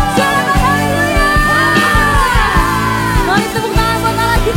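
A church congregation at an Indonesian-language worship service shouts and whoops hallelujah together, a loud sustained crowd roar layered over music and singing voices, with bursts of yelling rising and falling throughout.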